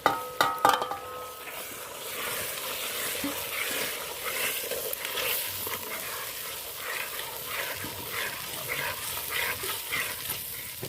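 Tomatoes going into a sizzling pan and being stirred while cooking a Gujarati ringna no olo, a steady hiss of frying with a few sharp clatters at the start.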